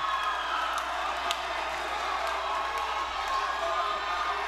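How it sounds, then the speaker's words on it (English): A boxing crowd cheers after a knockout from a big right hand, a steady roar of many voices with whoops and scattered claps, heard at a distance and evenly sustained throughout. "And we hear the crowd"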